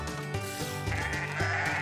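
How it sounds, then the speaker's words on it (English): Cartoon sheep bleating in the Paw Patrol On a Roll video game, a few short wavering bleats close up over steady background game music. "Sky found the sheep!"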